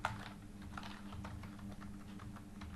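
Quiet, steady clicking of computer keyboard keys as text is typed into a PowerPoint slide, a run of close taps with no talk.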